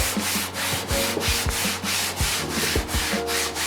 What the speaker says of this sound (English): it just feels wrong to paint something without at least giving it a light sand first